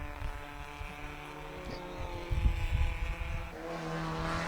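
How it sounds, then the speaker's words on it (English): A small MG sports car from the under-1.5-litre class races past at the Pittsburgh Vintage Grand Prix, its engine note rising and swelling as it passes fairly close, with wind rush. "now this is a gorgeous little MG coming through here"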